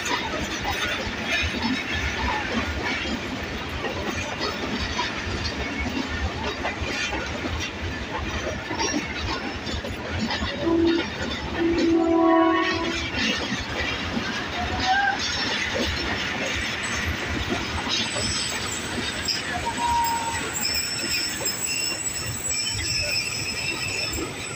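A passenger train hauled by a Caterpillar diesel locomotive rumbles past steadily at Rawalpindi, with rolling wheel noise and a low engine drone, brief squeals and clanks rising midway, continuous and fairly loud throughout.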